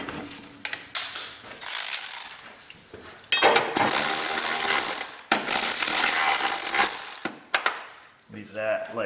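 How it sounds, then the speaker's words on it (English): A small hand ratchet clicks rapidly in long bursts while tightening a bolt on an add-on bracket for truck side steps on a Chevy truck, close and loud with brief pauses between runs of clicks. "Grab our little ratchet."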